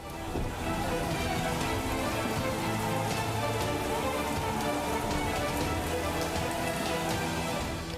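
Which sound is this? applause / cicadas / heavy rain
heavy rain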